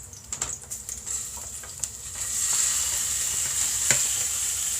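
Beef hits hot olive oil in a pan for a Japanese beef curry, starting with clattering stirring and then settling into a steady, close sizzle.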